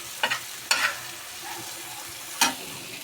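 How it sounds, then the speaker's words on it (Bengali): Eggs fry on a gas stove, heard as a soft steady sizzle with a few sharp utensil clinks and scrapes against the pan, fairly close and without talk. "আরেক চুলায় ডিম ভেজে নিলাম।"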